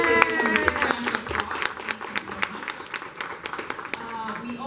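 Scattered clapping from a small luncheon audience, rising into a steady patter of applause with a few voices mixed in underneath.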